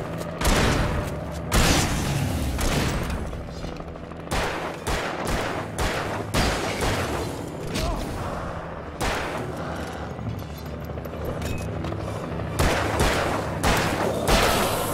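Gunshots ring out in the Alan Wake video game, fired in a rapid, uneven series of loud, close blasts that pile into a continuous barrage over about fifteen seconds.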